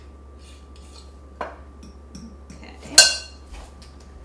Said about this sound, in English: clean off your pastry blender, pastry cutter, whatever you want to call